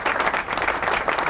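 Short, dense burst of audience applause filling the room, loud and even, with almost no talking over it.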